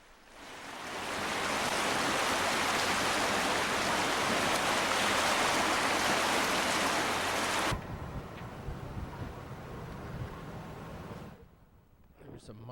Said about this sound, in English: Oh, the raging river.